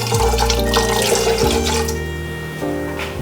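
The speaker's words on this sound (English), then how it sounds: "Now let's add 1/4 of a cup of our brandy." Brandy pours steadily into a pot of red wine in a close, continuous liquid stream lasting a few seconds, splashing and gurgling as it lands.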